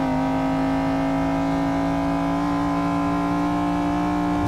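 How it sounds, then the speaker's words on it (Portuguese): A McLaren F1 GT with its V12 engine drones in Forza Motorsport 6 at a loud, steady pitch, a continuous near engine note that holds throughout with no talking. "Vamos lá, vou dar uma aceleradinha pra ficar quieto."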